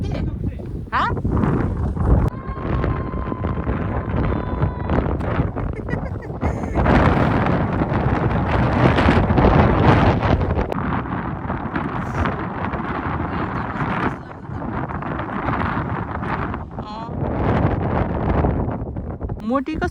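Strong gusting wind buffets the microphone on Raven Crag, a hilltop crag in the Lake District, roaring loudly and continuously with surges and lulls, while people talk intermittently underneath.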